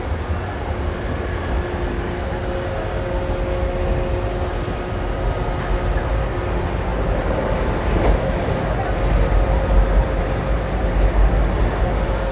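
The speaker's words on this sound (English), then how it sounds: "I love how intensely noisy this garbage truck is, plus the trains." A loud garbage truck works on a street in Ueno while trains rumble past, making a dense, continuous roar of engine and rail noise with faint tonal whines, heard up close with no talking.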